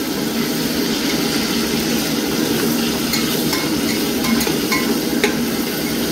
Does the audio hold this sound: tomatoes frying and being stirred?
yes